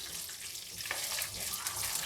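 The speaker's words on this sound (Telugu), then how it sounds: "కొద్దిగా 1 నిమిషం బాగా మగ్గనిద్దాం పచ్చిమిరపకాయలు" Green chillies fry in a pan, a steady bright sizzle and crackle that holds for a couple of seconds, close and fairly loud, with a slight stir near the middle.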